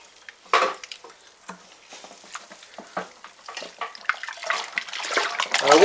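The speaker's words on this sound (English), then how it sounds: "malt extract into the fermenter." Thick malt extract glugs and splashes into a homebrew fermenter for a brown sugar lager, with irregular wet plops and sloshes building into a louder pour toward the end.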